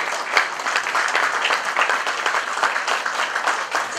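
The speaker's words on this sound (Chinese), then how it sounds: "我们再次把热烈的掌声献给他们" Warm, sustained applause fills a hall at a charity board installation ceremony, steady and loud throughout without pause.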